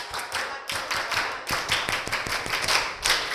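A group claps hands together in quick, counted bursts, crisp repeated slaps with short pauses between sets, counting up to fifteen claps.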